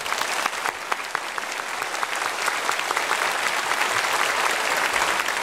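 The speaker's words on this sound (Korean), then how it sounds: "일어나셔서 인사드릴 때 우리 박수로 환영하겠습니다." A church congregation bursts into warm applause of welcome during a Sunday worship service, a steady, dense wash of many hands clapping that holds at an even level throughout.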